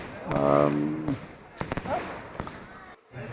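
Fireworks go off during a Muthu Mariamman festival procession in South India, with a few sharp bangs and crackles, fairly distant, after a voice speaks at the start.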